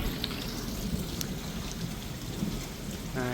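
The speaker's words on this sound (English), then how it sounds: "The rain do be coming down." Heavy rain pours at a new-construction home in Tulsa, a steady, close, hissing downpour with a low rumble under it, continuous for a few seconds before a brief tonal sound at the end.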